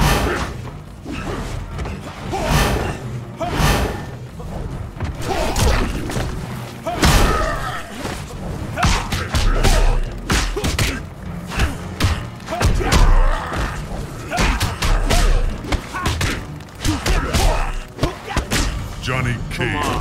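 Rapid fighting blows in Mortal Kombat (2011), Johnny Cage's chapter: a dense, loud flurry of punches, kicks, thuds and whooshes with grunts and announcer voice layered throughout.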